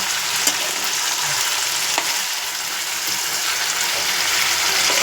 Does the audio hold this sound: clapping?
no